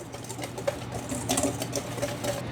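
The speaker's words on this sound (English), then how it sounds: "So I'm just going to give this a little whisk to incorporate that arrowroot into there." A whisk stirs arrowroot into a low-carb, high-protein banana pudding mixture that also holds gelatin, giving soft, quick, irregular scraping and tapping against the bowl at a quiet level with no talk.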